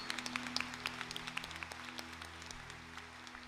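A church congregation applauds the word of the Lord during a Catholic service, with faint, distant scattered clapping over a steady low hum, and no voices on top.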